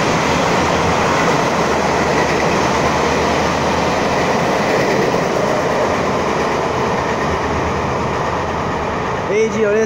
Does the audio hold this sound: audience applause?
no